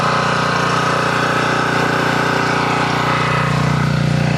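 A gas pressure washer rated at 3.2 GPM and 3200 PSI, fitted with a sandblaster attachment, runs with a loud, steady engine drone up close, unbroken throughout.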